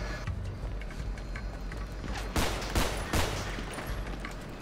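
Gunfire in GTA 5 roleplay, a dense fusillade of rapid shots layered over constant background noise, with a louder burst of cracks in the middle of the stretch.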